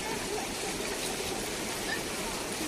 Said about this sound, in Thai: ตรงนี้เขาเรียกว่าน้ำตกหัวโค้ง บางสวรรค์